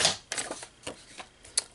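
Paper being cut to 4 inches with a trimmer blade for a craft storage box: a few short sharp scrapes and clicks, close and fairly loud, with no voices.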